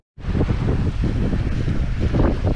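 Strong wind buffets the microphone on a Port Townsend Bay shore in Washington State, a loud continuous rumbling roar with no voices.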